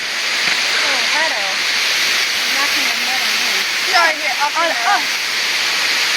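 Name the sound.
waterfall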